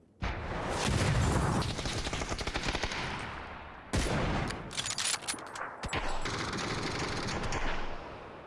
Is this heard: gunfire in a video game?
yes